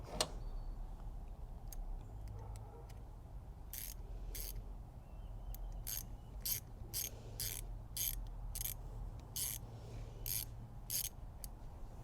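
Ratchet clicks in short, quick bursts while tightening an oil catch can fitting on a fifth-generation Camaro, a series of crisp, close ticking runs over a low background hum.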